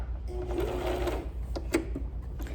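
A sewing machine stitches elastic onto a fabric face mask, running in a close steady whir, then stopping briefly with a couple of sharp mechanical clicks as it reverses.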